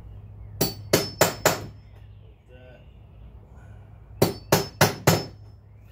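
Two quick bursts of four sharp taps each from a drill tapping on an exterior door, hard metallic knocks close by, separated by a brief murmured word.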